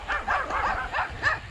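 Many small toy dogs bark and yip together at a distance in a small Florida town, a steady overlapping chorus of high yaps lasting the whole moment.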